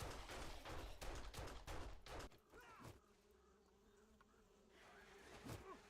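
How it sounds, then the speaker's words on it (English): Bees buzz in the survival game 7 Days to Die, starting as a dense, loud swarm of rapid pulsing hits for about two seconds, then dropping to a fainter steady drone with a few swells near the end. "those bees. Those are the most deadliest thing in the game."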